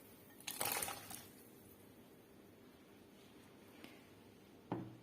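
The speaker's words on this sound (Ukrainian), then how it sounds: "Кидаємо картоплю." A cluster of soft thuds and splashes as potatoes drop into a pot of soup liquid, then quiet, with a faint knock and one more splashy plop at the end.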